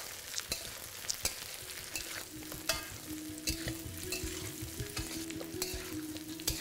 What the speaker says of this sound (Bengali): এটাকে এবার আমি আলু আর পেঁয়াজের সাথে ভালো করে ভাজতে থাকবো।